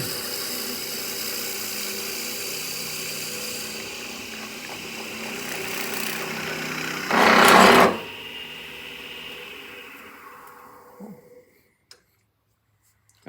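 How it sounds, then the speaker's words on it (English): A drill bit bores steadily into a walnut pen blank spinning on a lathe, giving a continuous close grinding whir with a louder rasping burst near the end before the machine winds down to silence. "we're going to go to the full depth of this drill bit"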